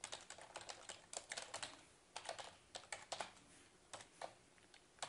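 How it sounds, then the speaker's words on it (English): Computer keyboard keys clatter in uneven bursts of quick taps with brief pauses, close and fairly quiet, no voices. "I can see my typing is going to be really, really slow."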